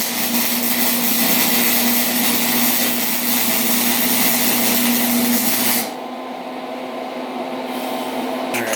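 A flux core welding run, a steady harsh crackling buzz with a constant hum, cutting off abruptly after about six seconds and leaving a quieter background.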